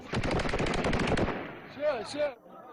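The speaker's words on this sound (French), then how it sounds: "La police répond par des tirs à balles réelles." Police fire live ammunition at protesters during the Tunisian revolution, a rapid, loud volley of shots in dense succession that stops abruptly, followed by a voice speaking.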